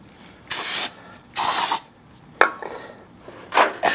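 Brake cleaner sprays onto a Mustang wheel bearing from 1987 to 1993 to strip old grease, in two loud, hissing aerosol bursts of about a third of a second each, followed by a knock and shorter spritzes.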